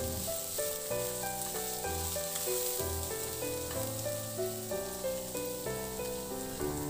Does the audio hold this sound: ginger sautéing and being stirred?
yes